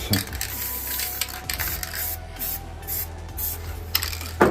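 An inexpensive spray paint can sprays colour onto a model building, giving a steady close hiss in several bursts with brief pauses between them.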